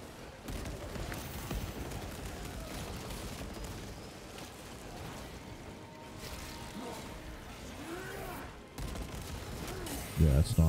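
Dense gunfire in Warhammer 40K Space Marine 2 rattles in rapid continuous bursts amid battle noise, fairly faint overall, with a louder flurry of shots near the end.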